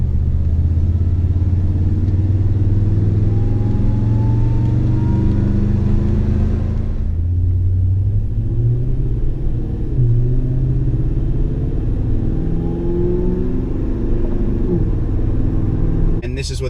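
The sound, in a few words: Toyota Tundra with BAmuffler TRD replacement exhaust system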